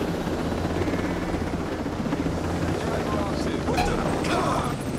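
Helicopter in the video game Ghost Recon Breakpoint, a steady, loud rotor thrum and engine drone held throughout, with faint talk over it.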